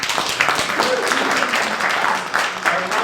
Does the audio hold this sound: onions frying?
no